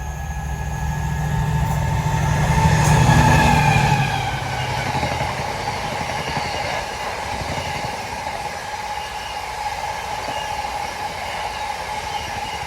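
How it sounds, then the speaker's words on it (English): A Network Rail RTC test train on a Derby to Derby working passes through a station: a loud, continuous rumble of wheels and engine that swells around the third second, then keeps running steadily, with no talking. "This is a Derby to Derby RTC working network rail"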